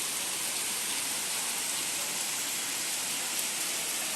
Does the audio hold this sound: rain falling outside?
yes